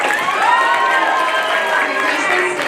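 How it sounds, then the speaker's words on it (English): A band banquet audience cheers and applauds for the freshmen, loud and sustained, with a dense crowd roar, whoops and shouts filling the room for the whole moment. "Give a round of applause for all of our freshmen."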